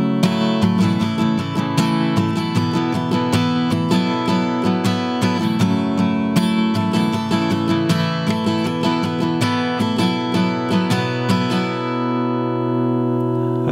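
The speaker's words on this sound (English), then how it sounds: "I'm going to show you the opening strumming pattern" Acoustic guitar strumming the opening pattern of a song, a steady, loud, rhythmic run of down-and-up strums ringing for about twelve seconds before the chord decays, with no talking.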